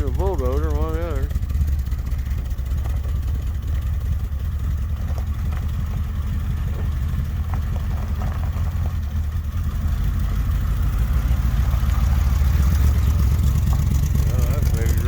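A vintage street machine car engine idling with a deep, steady low rumble, loud and close, while a voice speaks over it, the idle swelling a little louder near the end.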